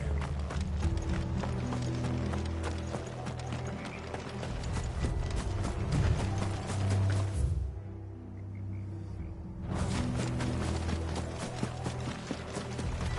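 Horses gallop in Final Fantasy XVI, rapid clip-clopping hooves over a low rumbling bed, briefly dropping away partway through before the pounding rhythm returns.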